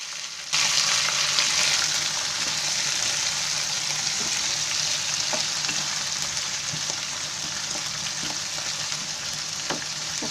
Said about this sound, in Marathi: आता त्याच्यामध्ये आहे ना हे काजू आणि बटाटा आहे ना हे असं टाकायचं तेलामध्ये